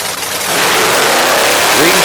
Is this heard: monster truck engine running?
yes